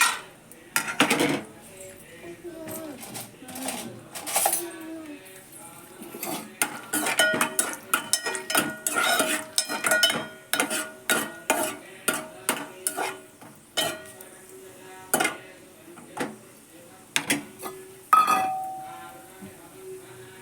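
A spatula scrapes and clinks repeatedly against a pan as cashews fry in oil, sharp metallic knocks and rattles arriving in irregular bursts over a faint sizzle, with a soft voice now and then.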